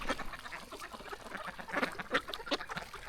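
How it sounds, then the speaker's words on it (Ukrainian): Many ducks quacking together in a busy flock along a riverbank, steady chatter with louder calls rising near the end, fairly close. "дивіться скільки качок злетілося обратно зимувати сюди"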